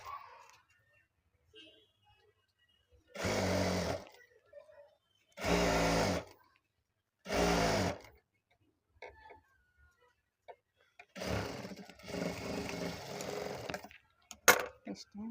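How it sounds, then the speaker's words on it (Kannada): A sewing machine stitches a small travel mobile pouch in three short, even bursts, then a longer, looser run after a pause, with faint handling sounds and a voice in the gaps. "ಇವಾಗ ಈ ಕಡೆಯಿಂದ ಇದನ್ನು ಸ್ಟಿಚ್ ಮಾಡ್ಕೊಳ್ಳೋಣ"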